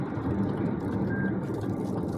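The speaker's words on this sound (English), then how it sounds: "You'll hear a little beep. Lane change assist." A single short, soft chime from the lane change assist in a Lexus TX, sounding over the steady hum of the cabin and road noise while driving.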